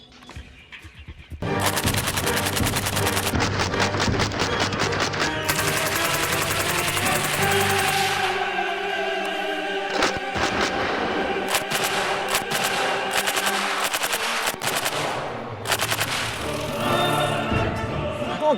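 An M240 Bravo machine gun fires long, sustained automatic bursts at a pile of watermelons outdoors, a loud, dense hammering that runs almost without pause and ends in a few scattered shots.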